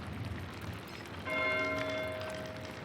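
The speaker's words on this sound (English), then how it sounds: "What? Why is Matteo ringing the bell?" A monastery bell rings in the medieval video game Pentiment, beginning partway through and sounding in steady strokes over a murmur of ambient background noise.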